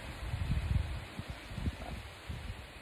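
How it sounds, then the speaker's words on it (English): Steady wind gusts buffet the microphone with low rumbling puffs under a constant airy hiss outdoors. "It is fairly windy."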